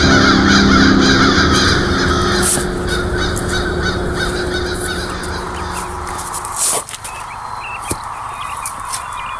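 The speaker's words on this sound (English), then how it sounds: "guide our journey and allow us to follow this particular crow" A crow caws repeatedly over a dense, noisy outdoor background, several harsh calls standing out near the end.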